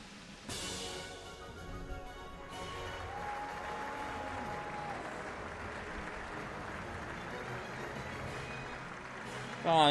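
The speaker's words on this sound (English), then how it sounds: "Afterward, the rehearsal ended to thunderous applause." Sustained applause from a large crowd after a dress rehearsal in the video game Trails Beyond the Horizon, holding a steady broad wash for most of the stretch over a low background.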